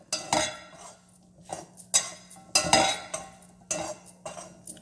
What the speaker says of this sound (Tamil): கேஸ் ஆஃப் பண்ணிவிட்டு இது ஒரு முறை கலக்கி விட்டுடுறேன்